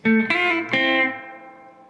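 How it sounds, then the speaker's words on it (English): Electric guitar rattles through a quick song rhythm phrase at full tempo, three fast chord strikes in under a second, the last one left ringing and slowly decaying, with nobody speaking. "Part 4 played in real speed."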